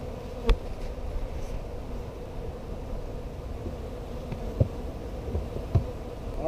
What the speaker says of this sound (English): I am surrounded by bees.